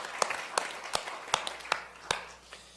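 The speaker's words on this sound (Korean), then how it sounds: "하나님께 박수의 영광!" Sparse, sharp hand claps ring out at a steady pace over a dense wash of applause from a church congregation.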